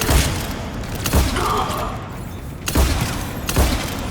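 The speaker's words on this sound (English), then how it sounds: "Commander, we're getting a lot of mortar fire." Mortar fire in the video game Mass Effect 3: a handful of heavy, booming explosion thumps land a second or so apart, with a rumbling battlefield din in between and no one talking.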